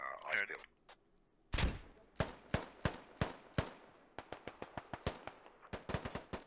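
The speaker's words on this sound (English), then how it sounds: "Oh, that's actually a frag." A frag grenade explodes with a heavy thump in the video game Squad during a large platoon push, followed by a steady series of sharp gunshots and then faster, overlapping rifle fire, all close and loud.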